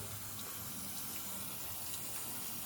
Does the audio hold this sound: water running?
yes